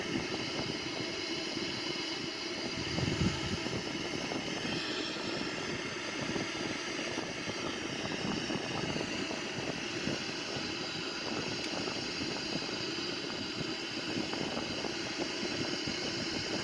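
A Boeing 787 airliner climbing through about 23,000 feet gives a steady, even engine roar and broadband rush heard from inside, continuous and unchanging with no voices.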